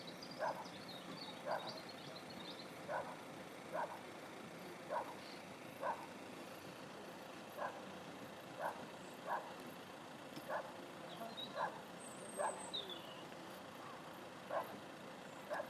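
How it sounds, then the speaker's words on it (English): A dog on one of the boats barks at a steady, regular pace, about a dozen distant single barks at sunset over soft background noise, with a faint bird chirp. "Making the dog bark on one of the boats"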